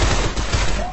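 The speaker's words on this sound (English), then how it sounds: "there's like shooting from every fucking angle" Loud, dense gunfire from the video game Shadow Complex, with turret fire in a lagging fight, shots arriving from several directions in a brief, crowded barrage with some voice mixed in.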